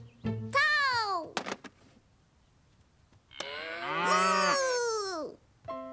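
A cartoon cow lets out two long, loud moos, separated by a short pause and a few quick knocks. The calls may be a voice imitating a cow.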